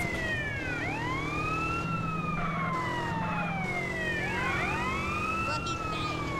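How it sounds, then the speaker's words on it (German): Police car siren in the video game GTA San Andreas, wailing loudly and continuously up and down in repeated sweeping cycles with overlapping tones throughout. "Ist natürlich ganz unauffällig, dass ich jetzt hier auch das Martinshorn anhab."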